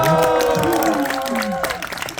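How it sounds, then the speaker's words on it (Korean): Audience at a hotel talk show event applauding and cheering, steady dense clapping with raised voices and whoops mixed in throughout. "다시 한번 박수와 함성 부탁드리겠습니다"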